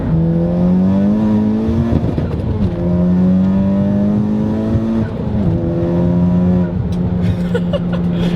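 A big-turbo Honda Civic Type R's K-Series engine revs hard through repeated rising pulls, each climbing in pitch before dropping back at a gear change, loud and close with a raspy edge.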